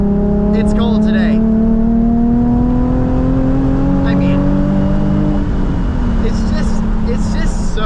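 Nissan 350Z HR engine pulling hard through the gears on a cold day, a steady rising drone that climbs in pitch for several seconds, then drops at a shift and settles lower, with someone talking over it.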